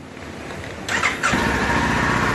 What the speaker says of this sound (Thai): เปิดไฟสตาร์ทด้วยกุญแจ